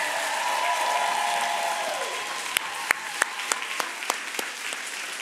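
Church congregation claps for the new chapel pastors, a broad burst of crowd applause with a voice briefly over it, fading into a series of distinct single claps.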